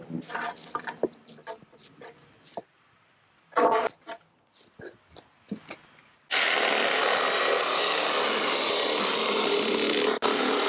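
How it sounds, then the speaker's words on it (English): A jigsaw cuts the cargo area panel of a 2-door Ford Bronco Badlands. Short handling noises and bursts come first, then a loud, steady sawing drone runs for about four seconds with a brief break near the end. "That is cutting like butter with that jigsaw."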